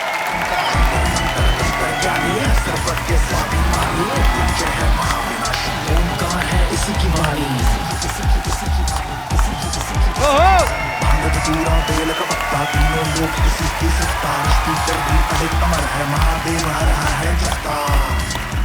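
A television studio audience at a comedy show applauds and cheers to welcome a singer, with loud, steady, dense clapping and whoops filling the room and continuing without a break.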